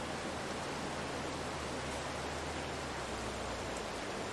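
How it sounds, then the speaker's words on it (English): Steady dense rain in Farming Simulator 22, a broadband hiss that stays constant and loud throughout with no breaks and no talk over it. "Oh, there's the rain anyways."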